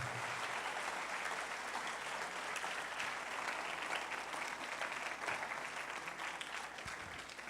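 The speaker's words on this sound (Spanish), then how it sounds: "Alguien dele un fuerte aplauso al Señor, por favor." Sustained applause from a church congregation during a worship service, dense and continuous clapping throughout, fairly even in level from start to finish.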